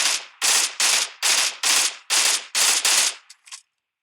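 Nine rapid shots from a gun in a modded video game ring out in an even rhythm, each a loud, sharp crack with a brief tail. A softer final pop follows, then silence.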